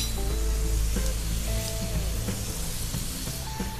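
Curry leaves crackle and sizzle in hot oil for a tempering, a dense steady frying hiss with scattered sharp pops, close up and without voices.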